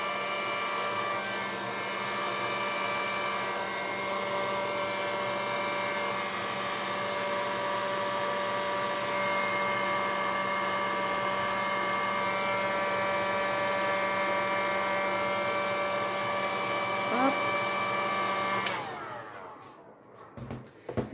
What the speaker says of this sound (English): now what I will do, I will just move my resin using this heat gun